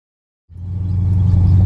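A 1965 Dodge Coronet with a 360 engine starts up after a moment of silence, then a steady low rumbling drone builds and holds close by.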